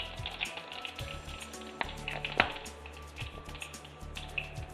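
Cumin and mustard seeds sizzling in a little hot oil for ginger rasam, a steady close frying crackle with scattered sharp pops and spits throughout.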